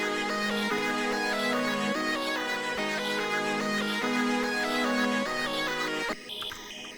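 Chord progression, lead line and sound effect playing together in FL Studio for a hard trap beat, steady and full for about six seconds before cutting to a brief, noisier effect tail.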